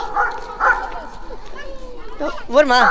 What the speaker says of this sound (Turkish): Köpek nasıl bağırıyor?